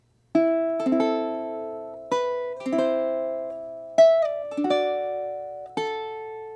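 A plucked ukulele picks out the slow melody of House of the Rising Sun, single notes and light chords ringing and decaying one after another, clear and close with no talking.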